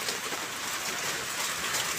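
Heavy monsoon rain pours steadily in a flooding yard, a dense, continuous hiss of downpour close by with no letup.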